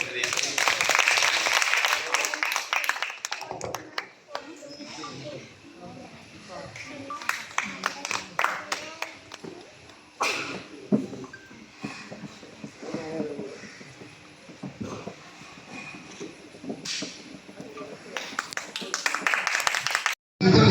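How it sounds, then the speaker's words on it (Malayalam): An audience claps together, with bursts of applause at the start and near the end, while someone speaks over and between the clapping. "വളരെ ഒരു നല്ല കയ്യടി കൊടുത്തുകൊണ്ട്"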